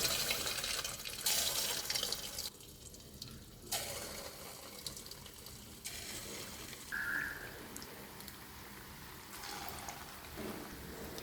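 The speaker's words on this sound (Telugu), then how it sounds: "ఇలా డీప్ ఫ్రైకి సరిపడా ఆయిల్ పెట్టి హీట్ అయ్యాక ఇప్పుడు పునుగులు వేసుకుందాం." Fritters made from idli batter (punugulu) sizzle as they are deep fried in hot oil, a close, hissing, bubbling crackle that rises and falls in bursts.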